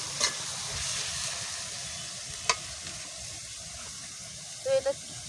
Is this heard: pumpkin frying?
yes